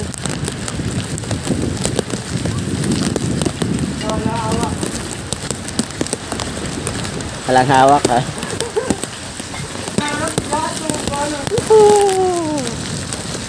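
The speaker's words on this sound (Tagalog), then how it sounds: "Yan, medyo maulan talaga. Malakas. Basang-basa kami." Heavy rain pouring down on cyclists outdoors, a steady loud hiss with wind noise throughout while several people talk and call out over it.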